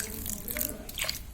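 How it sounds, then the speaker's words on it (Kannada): Water is poured into rava batter in a village kitchen, making a brief, faint splashing trickle with no talk. "ಇವಾಗ ಸ್ವಲ್ಪ ನೀರು ಹಾಕೊಳ್ಳೋಣ."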